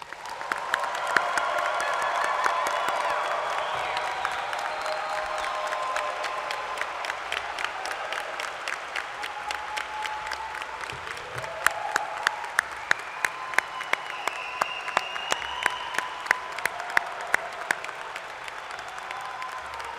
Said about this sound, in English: Please join me in a last round of applause for our graduates.